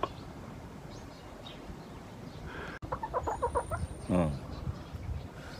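A pet chicken clucks near a person, with a rapid run of short clucks followed by a rising call, over soft background sound and a faint voice.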